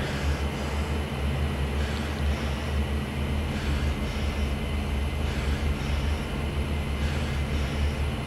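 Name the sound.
aircraft engines in a flight combat video game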